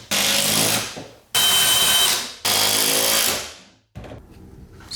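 A power drill fitted with a Forstner bit bores into wood for a garage cabinet cleat: three loud, close whirring bursts, each spinning down as the trigger is released, then a brief softer spin.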